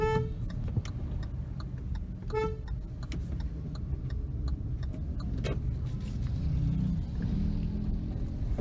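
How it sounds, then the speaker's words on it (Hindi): A Hyundai Venue S 1.2 petrol car idles along in first gear at about 1000 RPM, its engine a steady low hum heard from inside the cabin, with a few faint ticks and short tones over it. "अभी मैंने 1st गियर में कार डाल दी है. 1000 RPM पे गाड़ी है"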